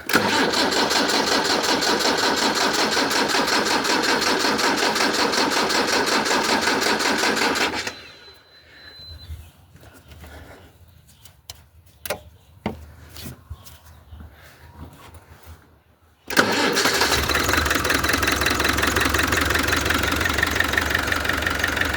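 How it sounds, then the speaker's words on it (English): Diesel engine cranked with the injector pump off, a loud continuous mechanical whir for about eight seconds, a quieter gap with clicks and knocks, then the steady loud cranking again. "Let's just crank it without the injector pump on, just to get through those lines."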